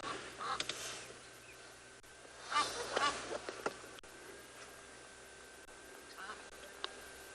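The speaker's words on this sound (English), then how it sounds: "all of these Egyptian geese that are making noises" Egyptian geese honk and call in the distance at a South African safari waterhole in the morning, a few scattered bursts over steady outdoor ambience, with a person talking throughout.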